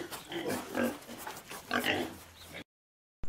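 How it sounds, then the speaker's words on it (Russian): A pig oinks and grunts in several short snorting bursts close by, followed by a brief silence. "Свинья – это домашнее животное."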